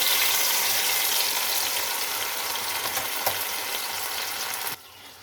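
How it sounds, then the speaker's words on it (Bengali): Poppy seed paste hitting hot oil left from frying pointed gourd in a pan, a loud steady sizzle and crackle that eases slightly before cutting off abruptly near the end. "ওই পটলের তেলের মধ্যে এবার দিয়ে দেব আমি পোস্ত বাটা"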